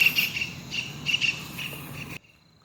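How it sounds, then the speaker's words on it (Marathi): Birds call outdoors in a quiet area beside a road, with several short high chirps repeating over a steady background before the sound cuts off abruptly. "पक्ष्यांचा आवाज ऐका."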